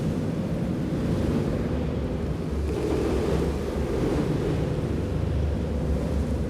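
Strong wind roars continuously, buffeting the microphone with a deep, rushing rumble that never lets up.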